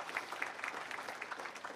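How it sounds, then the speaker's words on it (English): Faint clapping from a crowd at a memorial service carries on steadily and sounds fairly distant. "Let's appreciate them with a great round of applause."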